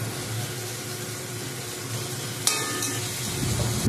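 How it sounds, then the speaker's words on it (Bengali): Tomato and capsicum frying in a kadai give a steady close sizzle, with a sharp clank of the stirring spoon against the pan partway through. "এরপর টমেটো আর ক্যাপসিকামকে কড়ার মধ্যে ভালো করে নাড়াচাড়া করলাম।"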